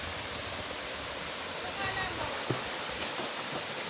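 Lambingan Falls, a waterfall with clean, cold water, gives a steady broadband rushing roar throughout, with a few faint splashes and knocks near the end.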